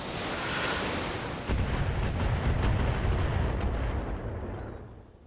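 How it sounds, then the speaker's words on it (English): A volley of long-range missiles launched from a mech in the BattleTech video game, a dense roaring rush of booming blasts that swells midway and sustains before tailing off. "Let's fire the LRMs."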